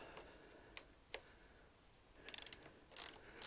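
A ratchet works a 10 mm bolt loose on a motorcycle, heard as faint, quick bursts of clicking in two short runs after a few isolated ticks, in an otherwise quiet space.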